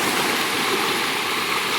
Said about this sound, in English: Now this little stream right here